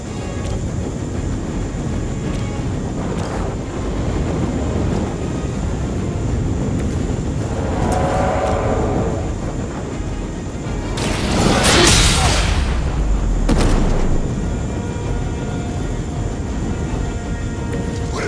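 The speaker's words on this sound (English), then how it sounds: "Reinforcements on approach! The last thing we need is for that pompous buffoon to win today. Stop that chopper, please." A helicopter closes in during a fight in the video game Midnight Suns, its steady rotor roar swelling into a loud, close pass and then easing back into a continuous dense rumble.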